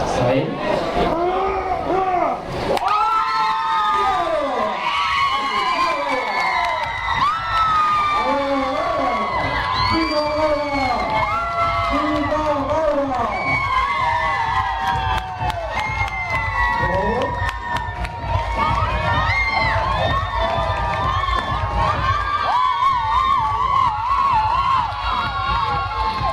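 An audience at a student dance event cheers loudly and without a break, with shouts and whoops over a dense crowd roar that stays strong throughout.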